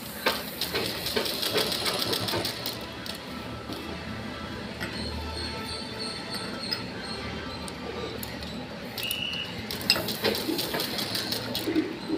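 A sewing machine stitches the seam of a round pillow from the inside, a steady mechanical whir running throughout with a few brief pauses and knocks.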